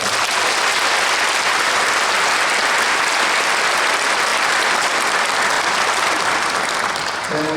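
Dense, sustained applause from a church congregation honoring newly ordained elders at a GKI synod ordination service, loud and steady throughout with no voices over it.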